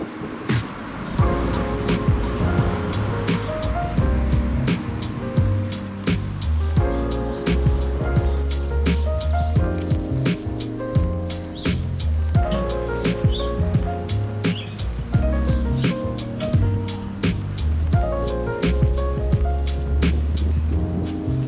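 A repotted literati-style pine bonsai being watered in a garden, with water pattering steadily onto fresh substrate, close and fairly loud in uneven splashing pulses.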